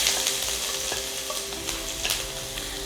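Ginger sizzles loudly in hot oil in a pan while being stirred, for a Kerala fish roast (meen perattu). The frying crackle is dense and steady, with scraping stir strokes throughout.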